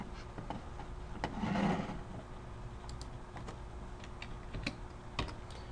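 Numbers typed on a computer keyboard, a few scattered, close key clicks with irregular spacing and a brief rustling swell early on, no talking.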